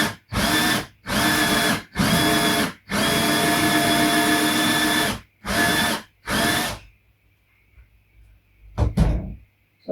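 A power drill spins a 7-inch vinyl record while its centre is scored for a jukebox, running in six loud bursts with brief stops between, then silence and a couple of faint knocks near the end.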